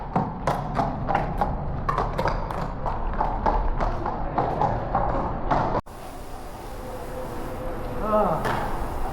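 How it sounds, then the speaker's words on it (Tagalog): Horse hooves clop on pavement near a tunnel, a quick run of sharp taps over road noise, while excited voices talk and exclaim nearby. "Oh, may kabayo!"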